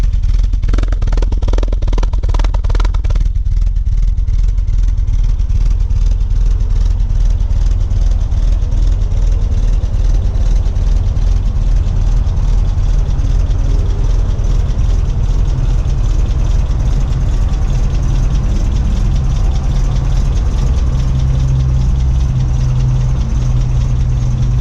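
A 1959 Triumph TR3 engine idles close to the exhaust pipe, a loud, steady low rumble with a brief blip of revving at the start before settling into an even, throbbing idle.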